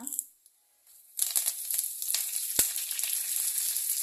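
Curry leaves and dried red chilies hit hot oil in a Kerala-style chicken thoran preparation, bursting into a loud, steady crackling sizzle after a quiet start, with a few sharp pops and spits throughout.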